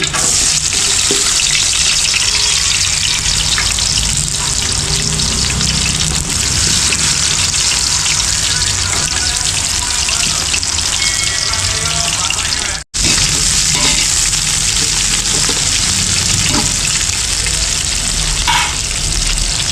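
Onions frying in a pan for a village-style mutton fry, a loud, dense and continuous sizzle that stays steady throughout and breaks off for a moment partway through.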